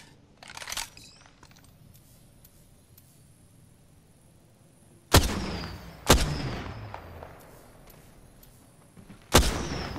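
Gunshots in the battle-royale game Apex Legends: three sharp, loud reports spaced a few seconds apart, each with a short decaying tail, over quiet ambient game noise with a faint early thump.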